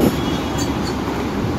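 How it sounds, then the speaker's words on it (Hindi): A metro train rolls past near the Dahisar–Mira Road checkpoint in Mumbai, a loud continuous rushing rumble with faint high squeals from the wheels. "पर मेट्रो जा रही है, मेट्रो आवाज आ रहा है।"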